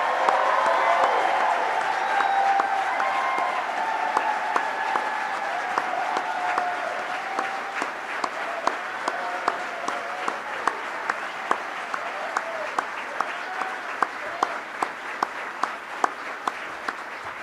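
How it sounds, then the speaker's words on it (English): A large audience at the 2019 National HBCU event applauds the White House HBCU Competitiveness Scholars, sustained clapping that thins into distinct individual claps toward the end, with a few crowd voices. "Would you please stand so that we can congratulate you and applaud?"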